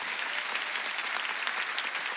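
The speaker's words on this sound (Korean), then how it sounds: "깨달은 사람 박수" A congregation at a Sunday church healing service claps together in dense, sustained applause, loud and even throughout, with no voices rising above it.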